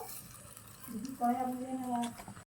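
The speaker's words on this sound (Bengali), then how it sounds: "নুরায়া কিন্তু প্রথম বেগুনিটা দিয়ে দিয়েছে তেলে" A brinjal fritter fries in oil in a miniature cooking pan, giving a soft, close sizzle while a voice is heard briefly in the middle.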